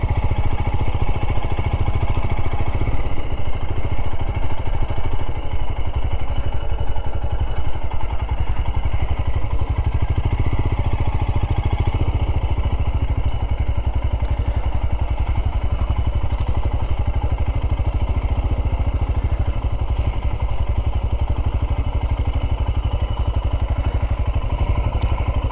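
A Royal Enfield Himalayan motorcycle engine runs steadily at close range, a continuous low rumble with mechanical clatter that holds constant throughout.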